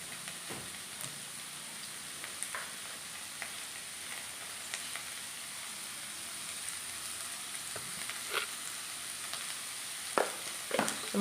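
A thinly sliced medium onion sautés with a little salt in a pan for Idukki-style pork peralan, giving a steady close sizzle with scattered pops and crackles and no voices.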